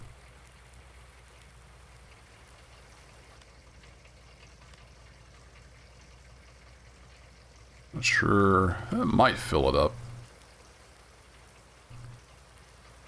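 Rain falling in Farming Simulator 19, a soft continuous patter in the background while someone speaks briefly over it.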